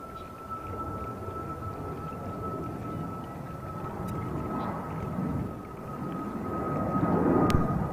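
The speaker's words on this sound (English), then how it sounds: "That would be Aero Mexico Flight 409, departing JFK to Mexico City, Mexico, aboard a Boeing 737 MAX 8." An Aeromexico Boeing 737 MAX 8 departs JFK, its jet engines a low, broad rumble that builds gradually toward the end, heard from a distance with a steady tone running underneath.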